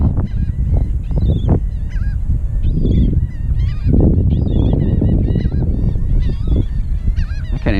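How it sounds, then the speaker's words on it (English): Geese or similar fowl honk loudly and repeatedly near a topwater fishing spot, overlapping calls in an insistent, chaotic stream with no gaps, close and dominant throughout. "These birds are gonna drive me crazy."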